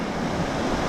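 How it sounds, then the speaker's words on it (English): Cold breeze blowing off Harrison Lake in British Columbia, heard as steady, loud broadband wind rush buffeting the microphone, mixed with a wash like lapping water, with no talk. "we've come around the corner and been hit by this cold breeze straight in the face"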